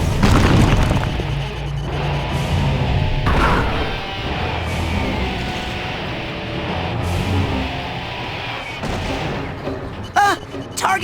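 A grenade in the game Psychonauts goes off in a loud, close, booming blast, followed by rumbling crashes and further bangs that layer over game effects.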